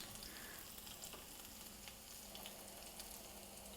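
Ramps, wild leeks, frying in a pan on a backyard kitchen stove, a soft continuous sizzle and crackle, faint and steady throughout with no voices.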